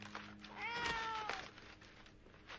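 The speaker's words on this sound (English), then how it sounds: "you mean you brought a cat with you?" A pet cat gives a single clear, drawn-out meow at moderate distance, rising then falling, against a faint background hum with no talking.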